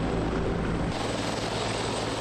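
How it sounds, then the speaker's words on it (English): A Canadian Forces helicopter drones steadily nearby, a loud continuous rotor and turbine roar with a low thrumming pulse, alone without voices. "Within minutes, Chrétien was airborne again, this time aboard a Canadian Forces helicopter."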